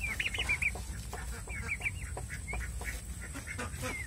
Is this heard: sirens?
no